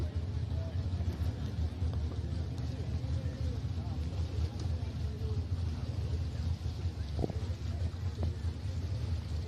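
Powerboat engines at a live race event at Dargle, a steady low rumbling drone that holds throughout, moderately distant and mixed with wind and crowd murmur, with people talking over it.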